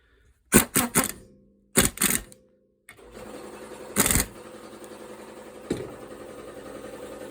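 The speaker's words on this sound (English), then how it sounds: "Hand tighten with the wrench, please." A wrench being worked by hand to tighten the bolts on a newly fitted Detroit Axle strut: two quick bursts of rapid ratcheting clicks, then a steady mechanical noise broken by a few close, sharp metallic knocks.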